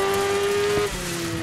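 A race car in the Dirt 5 video game skids, holding a sustained tonal tire squeal over engine drone for about a second before the squeal drops away, with the engine continuing.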